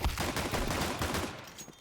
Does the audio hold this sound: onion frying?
no